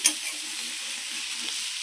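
Cabbage frying in a pan, a close, steady hissing sizzle with a faint clink at the start, no voices.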